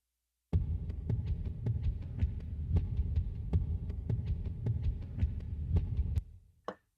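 A percussion loop built on deep tom hits pounds out a steady, evenly spaced thud pattern at close range, each beat full and low, with no talking, before stopping abruptly and leaving a brief final knock.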